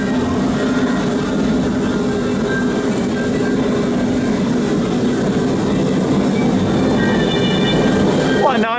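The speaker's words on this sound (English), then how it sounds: "starting our little train ride here" An amusement park train ride at Southport Pleasureland rumbles and rattles steadily along its track, loud and continuous, with a faint squeal toward the end.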